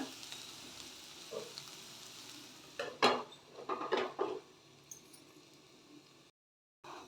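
Vegetables for shavige upma frying on medium flame, a soft sizzle under a cluster of clattering pan and utensil knocks, then a brief silence and a final short burst.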